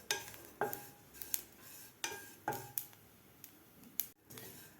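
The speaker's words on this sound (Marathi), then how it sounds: "आता आपल्याला खोबरं आणि तीळ व्यवस्थित भाजून घ्यायचे आहेत" Coconut and sesame seeds dry-roasting in a pan, with a spatula scraping and tapping the metal in sharp, repeated strokes about every half second over a faint background.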